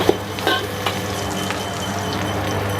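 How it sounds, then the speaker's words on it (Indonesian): Onion, garlic and spring onion stir-fried in a wok at a busy food stall give a low steady sizzle, with a few clinks and scrapes of a utensil against the metal early on, close by. "Tumis dulu sampai agak wangi."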